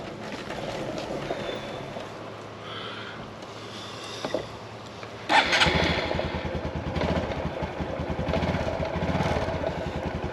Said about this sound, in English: we're checking engine noise, wind noise, everything from the rear mic.